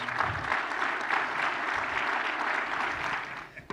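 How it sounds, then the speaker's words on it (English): Warm audience applause at a 2015 ophthalmology lifetime innovator award ceremony, a steady, dense patter of clapping from a crowd that continues for several seconds before tapering off at the end. "So Jackie, a little applause."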